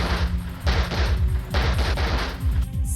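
Gunfire from a lynch mob in a zombie horror film: rapid, loud volleys of shots crackle in quick succession, coming in several dense bursts with no voices over them.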